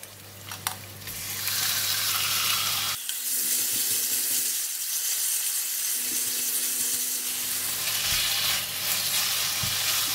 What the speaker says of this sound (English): Now I'm adding in the meat.